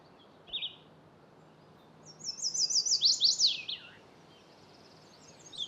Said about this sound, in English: the warblers are everywhere, including all these redstarts